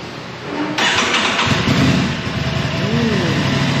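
A Vespa scooter engine at a Bali dealership cranks and catches near the one-second mark, then runs loudly at a steady idle with slight revving, while a voice speaks faintly in the background.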